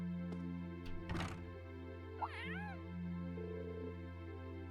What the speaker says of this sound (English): Was that a cat I just heard?